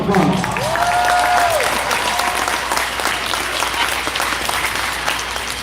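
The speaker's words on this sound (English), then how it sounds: "Give him a round of applause." Audience applause fills a concert hall after a school band performance, steady clapping from a large crowd that continues throughout, with a brief spoken voice near the start.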